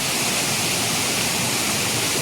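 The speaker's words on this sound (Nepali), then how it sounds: "यहाँनिर यसरी पानी यता बगाउनु भएको रहेछ।" Water rushing down a stream channel diverted for fishing, a loud, even, continuous roar of flowing water with no voices.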